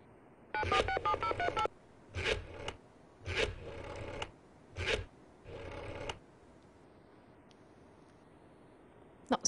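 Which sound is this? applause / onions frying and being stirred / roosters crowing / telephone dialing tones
telephone dialing tones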